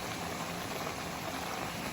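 Mushroom adobo with vinegar simmering in a pan, a steady close hiss and bubbling crackle that holds evenly throughout with no talk.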